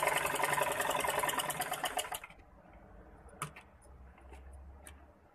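A sewing machine stitches boat neck blouse fabric in a fast, even run of close mechanical ticking for about two seconds, then stops, leaving only faint scattered clicks and handling noises.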